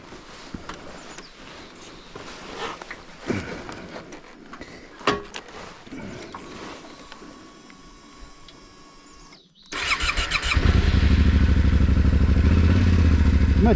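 A 2025 Yamaha Tenere 700 adventure motorcycle fires up after quiet handling clatter, its engine settling into a loud, steady, close idle rumble that runs to the end.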